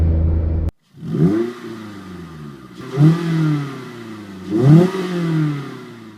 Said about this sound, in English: Okay, so this is how it revs